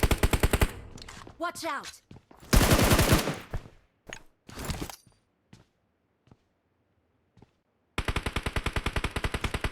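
Rapid machine gun bursts crack out in a competitive video game, with several loud volleys, scattered single shots and quieter gaps, while players talk over the fire.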